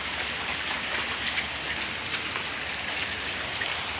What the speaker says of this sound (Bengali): আজকে সারাদিনই গেল বৃষ্টি